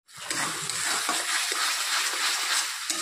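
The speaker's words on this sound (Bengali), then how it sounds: "বাটিটা ধুয়ে একটু জল দিয়ে দেব।" Water runs steadily and splashes as a bowl is rinsed and poured into a pan while cooking, a close, continuous rushing sound with no talk.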